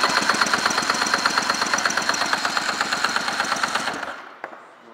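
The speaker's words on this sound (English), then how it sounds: "We're going to do a compression test," A 1996 Tigershark Motego personal watercraft engine cranks during a compression test on the mag side, making a loud, rapid, rhythmic chugging that runs for about four seconds and then stops abruptly.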